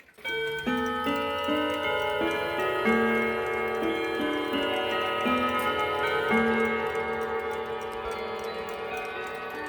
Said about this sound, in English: This is my Trend triple chime wall clock with a Hermle movement.